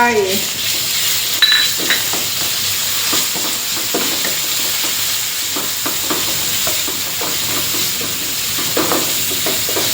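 Pork stirred and frying in a hot pan for Thai kaphrao holy-basil fried rice with shrimp, a steady sizzle with scraping utensil strokes and pan clatter throughout, close and continuous.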